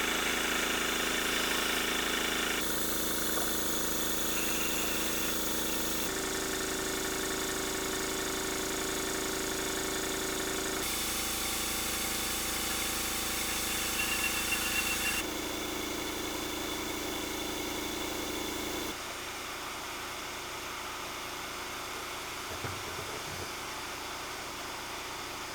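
Isabel, a model steam engine running on compressed air in reverse gear, gives a steady mechanical chuffing hum that shifts in character several times as it keeps running, fairly quiet and unbroken, with no voices.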